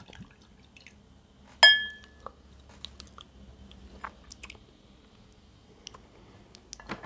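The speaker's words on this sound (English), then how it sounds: "Two ice cubes in a gin glass." Ice cubes clink into a gin glass with one bright ringing strike, followed by scattered small clicks and soft crackles as the ice settles, close and quiet in an otherwise still room.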